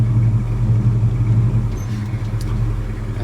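Idling V8-style rumble from a 1970 Chevy C-10 truck as it is put into gear, a steady close low engine drone with a slight dip partway through and no talking.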